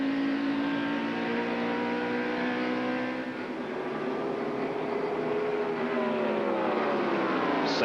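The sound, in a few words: NASCAR Winston Cup race cars on track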